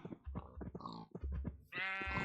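A goat in the video game Minecraft bleats several times in quick succession, wavering nasal cries ending in a longer, louder bleat, close and clear.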